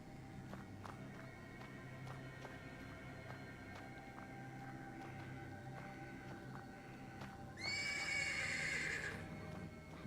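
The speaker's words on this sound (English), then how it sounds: "The persistent neighing of a horse can be heard from the stables." A horse in the stables of a video game neighs loudly in a long, shrill whinny toward the end. Before it come quiet ambient tones and faint hoof shuffles.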